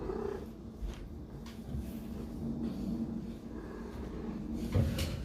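A cat purrs close by in a steady, continuous low rumble, with a few soft knocks and shuffles over it and no talking.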